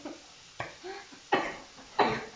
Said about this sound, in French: elle tousse dans mon burger